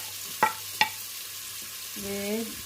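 Onion and garlic fry in oil for beef nilaga, a faint steady sizzle broken by two sharp clinks of a utensil and a short scraping stir near the end.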